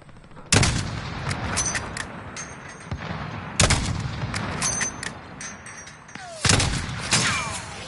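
Single sniper rifle shots in a video game, three sharp loud reports spaced a few seconds apart, each with a ringing tail, set against background game ambience.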